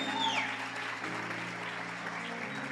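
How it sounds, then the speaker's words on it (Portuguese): A church congregation claps together at a sermon, short and fairly faint, with a held musical tone beneath the applause. "Agora aplaude aí para eu beber."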